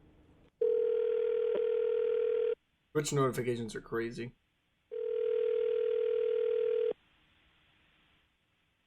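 A telephone dial tone sounds in two steady, loud stretches while a call is placed, with a brief burst of talk between them.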